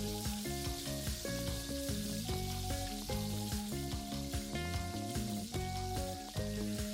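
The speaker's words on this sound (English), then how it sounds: "So we'll let the potatoes fry for about 5 minutes." Potato strips for french fries deep-fry in hot oil with a steady bubbling sizzle, partly covered by loud background music.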